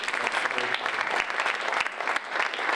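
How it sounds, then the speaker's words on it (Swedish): Warm audience applause at a press event with Zlatan in Linköping, dense steady clapping filling the room without a break, loud and close throughout. "Jag tycker vi börjar med att ge honom en varm applåd."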